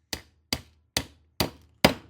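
Five evenly spaced, sharp metallic hammer blows drive a trim coil nail through a nail holder tool, each strike close and crisp with a quick decay and silence between, no talk.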